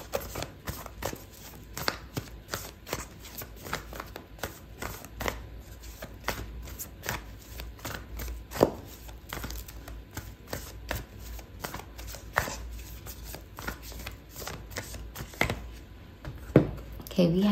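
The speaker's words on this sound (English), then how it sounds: "I'm gonna pull out a oracle card for you" Oracle cards being shuffled for a tarot reading, a continuous run of soft papery riffles and flicks close to the microphone, with a voice talking faintly in the background.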